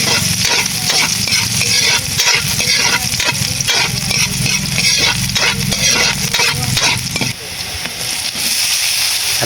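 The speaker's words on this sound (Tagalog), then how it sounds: "At dito nga sa mainit na kawali mga idol ay maglalagay na nga tayo dito ng mantika." Ginger, onion and garlic sauté in hot oil in a pan, a loud, continuous sizzle with repeated stirring scrapes, the frying dropping slightly near the end.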